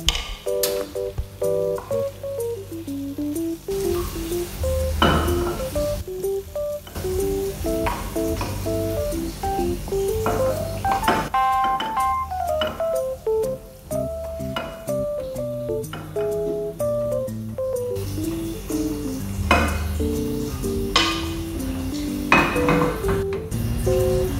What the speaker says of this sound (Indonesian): Selesai masak aku langsung cuci piring biar nggak numpuk piring di wastafel